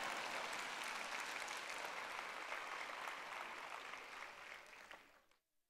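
An audience applauds at a preacher's talk, a thick, even wash of many hands clapping together that holds steady, then thins and fades out to silence at the end.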